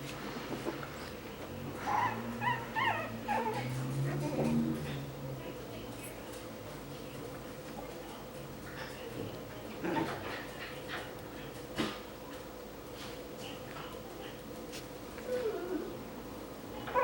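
Coton de Tulear puppies whimper and yip in a kennel, with short high cries clustered early and scattered later, while a person talks nearby.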